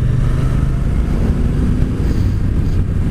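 A motorcycle engine drones steadily and loudly throughout, a low rumbling hum with wind noise, as if recorded while riding.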